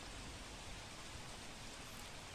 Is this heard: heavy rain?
yes